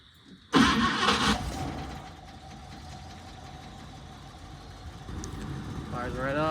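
A 1964 AMC Rambler Classic cranks and catches with a loud burst, then settles into a steady idle, its engine running evenly up close while a voice talks briefly near the end.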